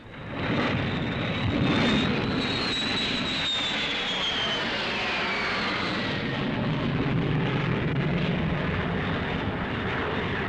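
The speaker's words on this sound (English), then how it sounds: "Taking cover while the planes are overhead" Aircraft flying overhead during a 1966 air raid alert in Vietnam, a loud sustained engine roar that swells and holds throughout with a whining tone sweeping across it.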